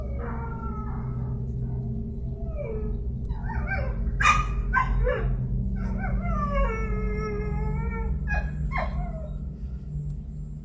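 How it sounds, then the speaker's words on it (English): A small female dog barks repeatedly at 4 a.m. outdoors, breaking into howling, whining yelps between sharp barks over a steady low hum. The calls are close and moderately loud, with no talking. "Her dog was barking at seemingly nothing"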